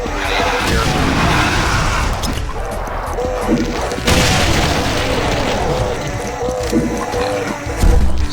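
Grenade blast in Brutal Doom, a loud boom and crash amid dense game noise and music, with someone talking over it.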